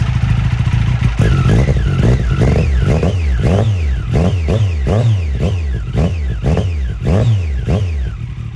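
A 2014 Triumph 675R race motorcycle cranks over and fires, then revs repeatedly in sharp, rising and falling bursts that stay loud and close from start to finish, with no voices.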